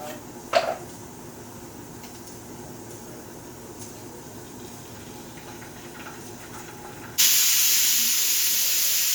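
A pressure cooker with chickpeas inside suddenly lets out a loud, sharp, sustained hiss of steam that continues steadily to the end, after a quiet kitchen stretch with a brief clink early on.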